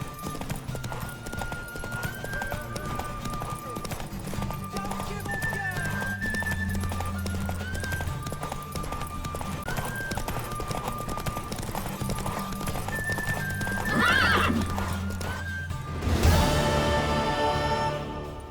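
A horse gallops in The Witcher 3 video game, its hooves beating a steady, rhythmic clip-clop over background game music, with a whinny breaking through near the end.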